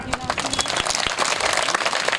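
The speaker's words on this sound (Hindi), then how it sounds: "जोरदार तालियां" Crowd applause at a tiranga rally honouring a martyred subedar, brief scattered clapping with a few sharp, distinct hand claps standing out near the microphone, with some faint background voices.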